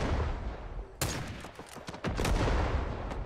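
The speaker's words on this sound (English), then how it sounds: "I'm hearing grenadiers, which is just the worst sound in this game." Grenadier fire and bursts of gunfire crack in fast, loud volleys during a Rising Storm 2: Vietnam match, with overlapping shots thick throughout.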